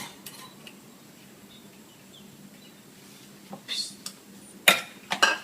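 Pork dumpling filling with spring onion and coriander stirred in a bowl, faint scraping at first, then several sharp clinks of a utensil against the dish near the end, with voices nearby.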